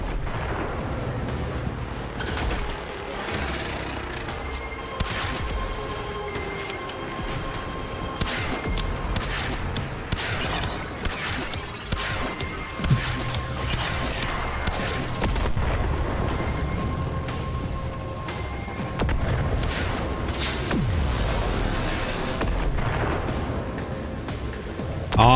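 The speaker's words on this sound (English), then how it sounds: "All the explosions." Repeated booming explosions and crackling blasts in the game Warframe roll on continuously, loud and dense, layered with gunfire-like bursts and rumbling.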